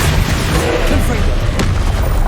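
A Confringo blasting spell explodes in Hogwarts Legacy, a loud, dense boom that fills the whole stretch with continuous rumbling blast noise and a sharp crack near the end.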